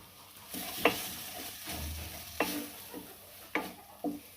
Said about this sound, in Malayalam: ഇനി നല്ലതുപോലെ ഒന്ന് ഇളക്കി കൊടുക്കാം